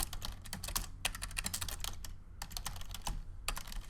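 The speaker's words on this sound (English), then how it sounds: "you can type in here" Rapid typing on a computer keyboard, dense bursts of keystrokes with short pauses between runs, close and clear with no talking.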